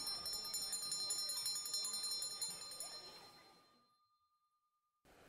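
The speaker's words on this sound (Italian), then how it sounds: "il suono della campana della maestra che richiama i bambini dopo la ricreazione" A school teacher's hand bell rings in quick repeated strokes, bright and metallic, calling children back from recess at Bodie, California, then fades out and stops, followed by a moment of silence.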